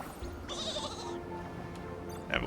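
Sheep bleating in the video game Infinity Nikki: one drawn-out bleat, close and clear over a steady in-game ambient background, with a short higher sound near the end.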